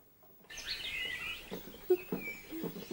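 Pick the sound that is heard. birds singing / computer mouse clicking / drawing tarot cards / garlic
birds singing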